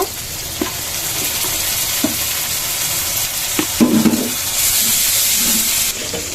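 Ginger and garlic hit hot oil in a pan with bay leaves, cooking for a loitta dried-fish curry, giving a steady close sizzle broken by several scraping stirs of a spoon.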